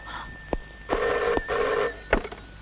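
A telephone rings in bursts: a short chirp, then two long, loud rings, then one shorter ring. It comes from a scene in a Telugu family comedy film, with no talk over it.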